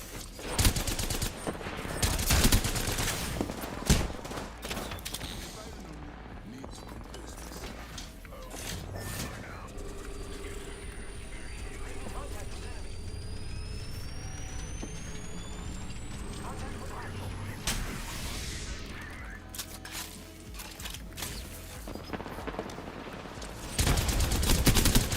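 Havoc rifle fire in a ranked online shooter match comes in bursts of rapid automatic shots, loud and close, under a player's talking.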